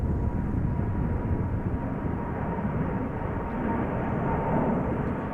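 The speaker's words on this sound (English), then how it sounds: "I think that is Garuda. Taking off from center." A Garuda Indonesia airliner taking off from Amsterdam Schiphol, a steady distant jet roar with a faint tonal whine, unbroken and even in loudness.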